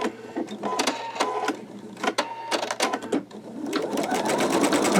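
An embroidery machine stitches a fine design onto a T-shirt, with a fast, steady mechanical needle rhythm, close and loud, shifting to a softer whirring hum near the end.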